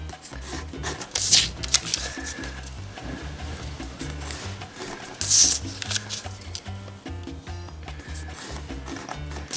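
Paper being creased and folded by hand for an origami ring, with soft rubbing and crinkling throughout and two brief sharper crackles, close and fairly quiet.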